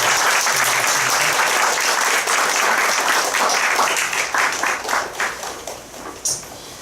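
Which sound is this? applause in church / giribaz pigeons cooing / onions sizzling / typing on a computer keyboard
applause in church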